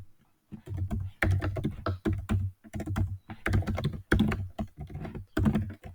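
Code being typed on a computer keyboard, with steady runs of clicking keystrokes in bursts and brief pauses, close and clear with no talk.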